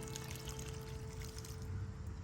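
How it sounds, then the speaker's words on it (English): Water is poured out of a clogged garden planter in a quiet, continuous trickling pour that lasts a couple of seconds, faint and close, with no voices. "pour the water out of that. I don't want it to become a mosquito haven."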